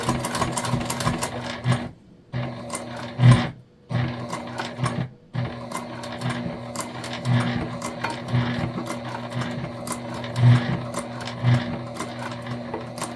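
A sewing machine runs a reinforcing line of stitches through layered fabric for a crossbody bag. The motor whirs steadily and close, stopping briefly twice early on before running on, with no speech.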